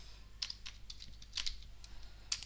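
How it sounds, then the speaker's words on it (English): Keys clatter on a computer keyboard during a Django backend coding session, a few quick bursts of clicks separated by short pauses, close and moderately quiet over a low steady room hum, with no talking. "What am I typing?"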